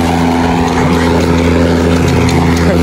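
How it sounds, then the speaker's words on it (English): A lawn mower engine drones loud and steady while mowing grass, its constant low rumble unbroken throughout. "Look, I'm mowing the grass."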